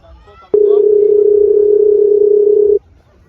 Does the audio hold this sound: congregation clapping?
no